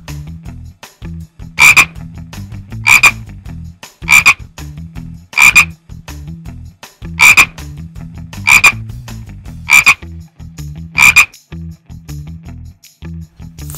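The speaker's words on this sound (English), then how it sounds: "Frog." A frog croaks in repeated short bursts, eight loud, evenly spaced calls with quiet low rumbling between them, heard alone and close.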